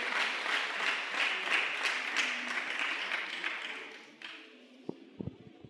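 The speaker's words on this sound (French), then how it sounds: "Est-ce que tu peux acclamer pour Dieu?" A church congregation at a French-language Sunday thanksgiving service applauds and cheers, sustained crowd clapping that fills the room before thinning out into a few scattered claps and taps at the end.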